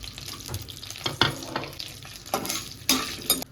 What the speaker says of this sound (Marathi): गरम तुपामध्ये जात आहे आपलं बदाम काजू त्यानंतर मनुके